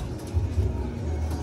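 Low, soft cooing of pigeons repeating in short phrases, close by over a murmuring background.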